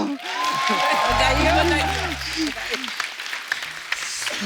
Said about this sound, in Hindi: जोरदार ताली, बधाई हो